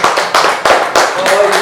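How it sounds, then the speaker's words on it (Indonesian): Clapping in a classroom comes as short, loud bursts that sit close to the listener and are mixed with speech from the people in the room. "Tepuk tangan untuk"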